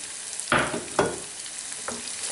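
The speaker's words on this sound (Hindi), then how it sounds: "अदरक और लहसुन का पेस्ट जो है वो ऐड करेंगे। थोड़ा सा इसको भी जो है वो सोते कर लेंगे।" Ginger garlic paste sautéed with browned onions for a mixed vegetable dish of potato, peas, carrot and fenugreek, giving a low sizzle with two clear stirring scrapes and a fainter third, no talking.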